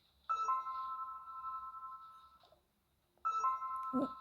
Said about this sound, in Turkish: Neyse uzatmayayım zil çalayım